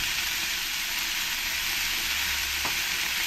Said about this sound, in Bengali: এবার আমি এই পেঁয়াজগুলো দিয়ে একটু হালকা করে ফ্রাই করে নেব।